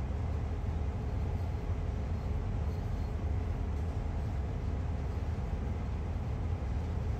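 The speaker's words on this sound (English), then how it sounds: "I will then bring the train to a stop." Passenger train in the Train Sim World video game, Northeast Corridor route near New York, braking to a stop: a steady, loud rumble and rail noise, continuous and unchanging throughout.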